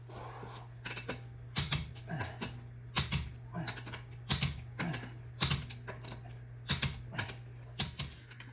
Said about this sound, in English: now we're going to come back and torque these, because you don't mess around on lug nuts